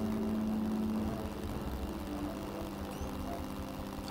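A propeller plane drones steadily overhead in the brewing game The Brew Barons, a constant engine hum with a faint whine that holds unchanged throughout.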